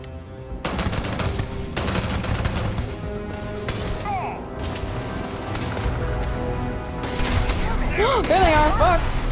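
Rapid video game weapon fire crackles in bursts through a busy sci-fi shooter battle, with other effects and sliding tonal sounds layered over the shots and a person talking over the action.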